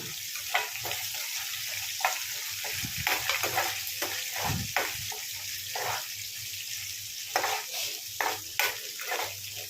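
Curry leaves crackling in hot oil for upma, a bright sizzling hiss punctuated by irregular spatters and a few louder bursts, fairly close and steady.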